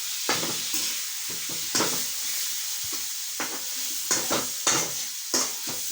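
Food frying in a pan is stirred after salt goes in, steady sizzling with repeated close scrapes and clacks of the spoon against the pan, no voices.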